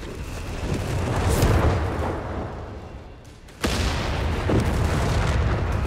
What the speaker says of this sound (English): Grenades on the Jaegers